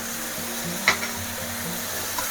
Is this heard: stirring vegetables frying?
yes